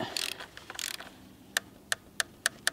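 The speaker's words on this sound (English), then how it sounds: "I'm going to torque them down just because I got a torque wrench." Ratchet torque wrench tightening valve cover bolts on a Mercedes C230, first several quick rasping clicking runs, then five sharp, evenly spaced clicks up close with no talking.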